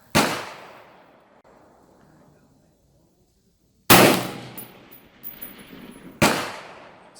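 An M16A4 rifle fires at a steel target, giving three sharp, loud shots with clear gaps between them, each followed by a decaying ring, and a metallic clang after the second shot.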